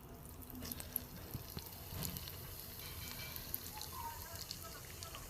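Bata fish coated in spice powder fries in hot oil with a steady, low crackling sizzle that runs throughout, with faint small pops and no pauses.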